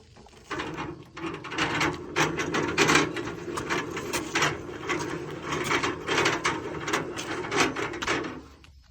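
A worn car rear end gives off repeated mechanical grinding and clicking, irregular ratchet-like bursts recurring for several seconds, close and fairly loud with no talk.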